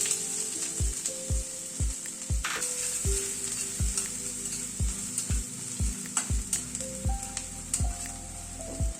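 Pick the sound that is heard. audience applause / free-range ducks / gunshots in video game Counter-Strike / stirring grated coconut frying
stirring grated coconut frying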